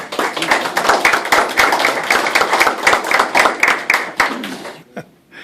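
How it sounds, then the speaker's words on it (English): An audience gives a lively burst of hand clapping after a student's persuasive speech, dense and close, tapering off and fading out near the end. "They were clapping, I swear."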